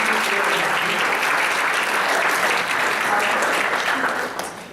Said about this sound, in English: Please, a warm applause for Tamara, Roman, Mattia, and Tamara